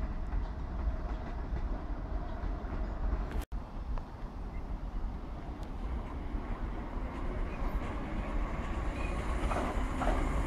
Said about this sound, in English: Southwest Trains departing Guildford for London Waterloo on this local service